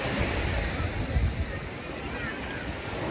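Sea surf rolls onto a beach in Albania near Durrës, a broad, steady wash of waves mixed with wind buffeting the microphone, continuous and fairly close.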